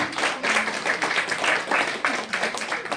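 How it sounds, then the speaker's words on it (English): Audience applause for Kyung Group at a Fayetteville, NC business presentation, a steady wash of many hands clapping close and loud with no voices over it. "I want to give a big round of applause for Kyung Group"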